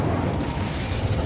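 The Incendio fire spell is cast in Hogwarts Legacy, erupting as a loud, low rumbling whoosh of flame that roars steadily through the brief moment.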